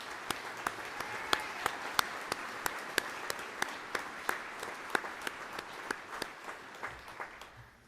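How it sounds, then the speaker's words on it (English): A graduation ceremony audience applauds standing honor students, a soft, distant crowd clapping with a few sharp nearby claps cutting through at a fairly regular pace before it tapers off near the end. "Let's give these students a well-deserved round of applause."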